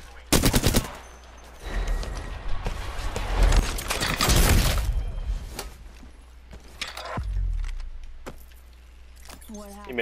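Bursts of gunfire in Apex Legends, sharp rapid shots in short volleys during a close fight, loud at first and then thinning out, with a player talking excitedly over them.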